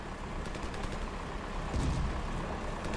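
Rapid gunfire from the military shooter game Ravenfield, a dense, continuous rattle of shots with heavier booms toward the end, steady and loud with no talk over it.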